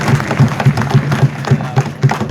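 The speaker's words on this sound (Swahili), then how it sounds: "mpigeni makofi tena." A university student audience at a Mzumbe University gathering in Mbeya claps in a steady, rhythmic beat, loud and close, the regular claps repeating several times a second throughout.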